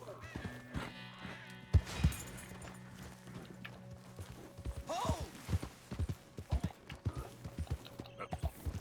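Horse hooves clip-clopping in Red Dead Redemption 2, an irregular run of close thuds that grows denser and busier toward the end, with game music and ambience underneath and some talk in places.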